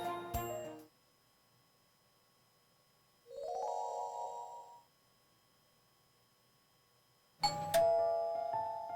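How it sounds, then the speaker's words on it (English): A doorbell chime rings alone in a quiet room, one clear ding-dong, bracketed by brief, louder bursts of bright ringing tones at the start and end. "The doorbell rings early in the morning."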